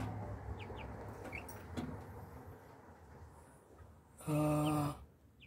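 Three-week-old chicks, a Rhode Island and native chicken crossbreed, give faint high peeps over a steady background rumble, then a louder, sustained harmonic call near the end.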